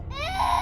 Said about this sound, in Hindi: अचानक उसके कानों में एक बच्चे के रोने की आवाज आई।